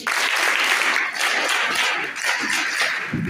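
Audience clapping at a class 8 school blessing ceremony, a steady dense round of applause filling the room at even loudness throughout.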